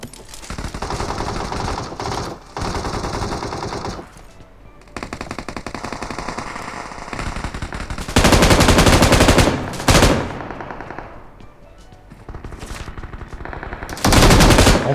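Bursts of rapid automatic gunfire in PUBG Mobile, loud and close, broken by short pauses and a few scattered single shots.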